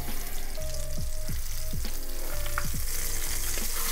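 Flour-coated fish fillet frying in a pan just after being flipped, a loud, steady sizzle close by with a low repeating hum and faint clicks beneath it.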